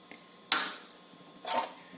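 Dry chana dal tipped into a hot kadai: two brief clattering, rattling bursts of lentils striking the metal pan, fairly close and moderately loud, separated by a quiet gap.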